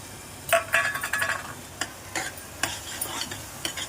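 Whole masoor lentils tipped into a fried spice paste and stirred in a pan, a soft close sizzle with scraping spoon strokes and a few light metallic clinks, no talking.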